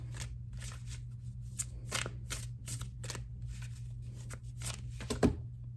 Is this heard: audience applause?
no